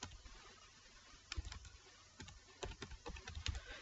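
Typing on a computer keyboard while entering commands on a Windows Server 2012 machine, heard as a few close, irregular bursts of crisp key clicks separated by short pauses over a quiet room hiss.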